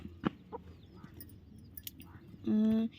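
Chickens in a village herb garden give a brief clucking call near the end, after faint pecking and scratching sounds nearby, with quiet background rustle.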